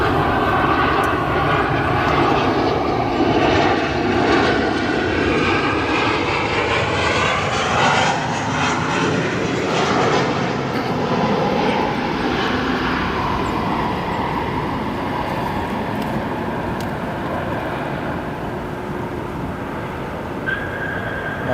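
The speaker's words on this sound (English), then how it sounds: "Nice firm landing there on 10 center" An airliner touches down firmly on runway 10 Center at O'Hare, its loud engine roar sustained and near, with a steady broadband rumble and a slowly shifting tonal whine that eases gradually over the rollout.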